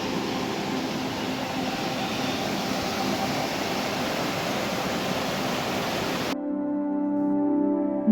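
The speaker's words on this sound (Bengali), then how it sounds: "বর্ষায় রোহিণী ওয়াটারফলের কুলকুলু ঝর্ণার আওয়াজ অনুভব করে" Rohini waterfall in the Darjeeling hills during the monsoon gives a constant rushing roar of falling water for about six seconds, then cuts off abruptly to a quieter, faintly tonal background.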